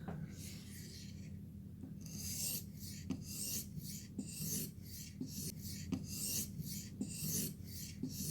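A blade is drawn over an abrasive surface to remove the burr, giving repeated dry rasping strokes in a steady back-and-forth rhythm, close and fairly quiet.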